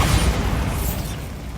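A Bombarda spell in the video game Hogwarts Legacy goes off as a loud, broad explosive boom that rumbles and slowly fades, heard alone without talking.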